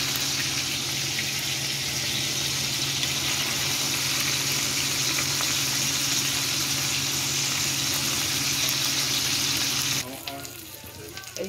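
Beef kofta fries in hot oil, giving a steady, loud sizzle and bubbling hiss that runs for about ten seconds before dropping off sharply, with faint movement sounds afterward.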